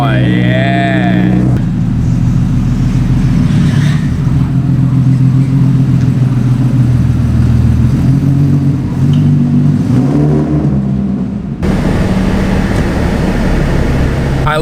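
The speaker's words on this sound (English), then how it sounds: "let's start the car" A car engine starts and settles into a steady, loud idle with low rumble throughout, parked in extreme 118°F heat with the air conditioning running; a voice speaks over it near the start.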